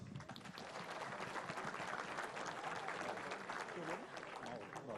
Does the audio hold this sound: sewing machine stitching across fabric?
no